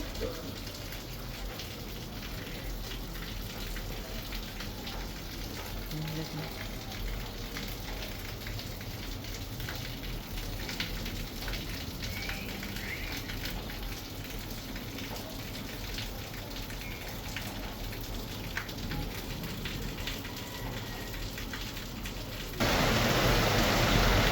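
Steady afternoon rain falls in a village with a dense, even hiss that holds unbroken for the whole stretch, growing slightly louder and fuller in the last moments.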